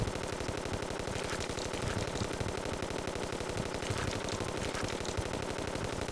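Rapid, continuous automatic Uzi fire in Terraria, a dense unbroken rattle of shots held close and loud throughout.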